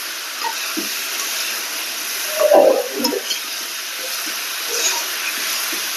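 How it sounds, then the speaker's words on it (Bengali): Tomato and potato frying in oil in a pan for a rohu fish curry, a soft steady sizzle with a few stirring scrapes and clinks, no talk. "টমেটোটা একটু ভেজে নিতে আছে আলুর সাথে।"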